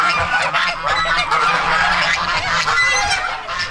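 Farm ducks and chickens, with a rooster and hen among them, create a loud, continuous clamor of nasal honking and quacking calls close by, without speech.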